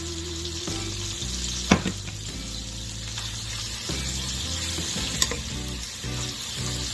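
Potato filling with garlic sizzles steadily in a pan while it is stirred, a continuous close frying hiss broken by a couple of sharper scrape knocks from the utensil.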